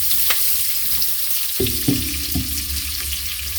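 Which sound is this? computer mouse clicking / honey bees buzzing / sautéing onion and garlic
sautéing onion and garlic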